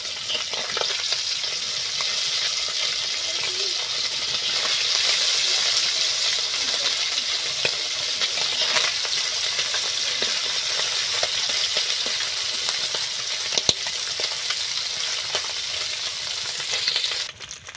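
Small puti fish frying in a wok of hot oil give off a continuous, close, dense sizzle with light crackling and occasional sharper pops, steady from start to finish before cutting off.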